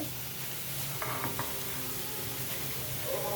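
Panch phoron spices sizzle steadily in hot oil for a winter mixed-vegetable dish with chickpea dal: a continuous close frying hiss with a few brief utensil clinks and a small burst of crackle near the end.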